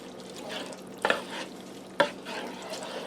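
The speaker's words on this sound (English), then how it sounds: "I'm going to stir that all together." Taco sloppy joe mixture with salsa and water stirred in a pan, soft scraping and gentle sizzle with two sharp utensil knocks against the pan.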